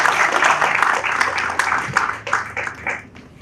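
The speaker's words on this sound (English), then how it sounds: "Thank you with a round of applause for him." A seated audience at a cost audit talk claps for the chief guest in a dense, sustained burst of applause that fades slightly toward the end, with no voices over it.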